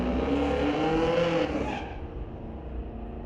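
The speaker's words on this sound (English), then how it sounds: "And here's that lovely Corvette, once again, racing against a 71 Camaro." A Corvette launching against a 1971 Camaro at a street-legal drag strip night, engines roaring loudly together with harmonic revving, then dropping off sharply midway as the cars pull away into a fading rumble.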